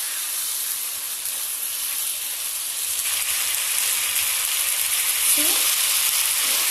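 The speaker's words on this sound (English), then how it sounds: "You have to mix it nicely with the masala and fry it for 2 minutes" Pieces of rohu fish fry in hot oil with masala for a Bengali-style curry, a loud continuous hissing sizzle close by that grows slightly stronger, with an occasional scrape of stirring.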